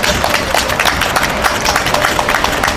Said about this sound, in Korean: 안난테님한테 다시 한번 큰 박수 부탁드리고요.